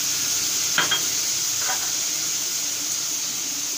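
Chicken liver frying on a tawa with salt and lemon juice, a steady sizzle with a couple of brief stirring scrapes near the start, no voices.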